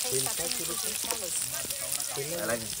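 Onion sizzles loudly in a hot pan for soya chilli, a dense continuous frying crackle close up, with a voice talking over it throughout.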